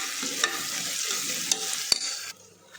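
Ginger-garlic paste frying in a pan for country chicken biryani gives a bright steady sizzle, broken by a few sharp spoon scrapes and taps, then drops quieter near the end.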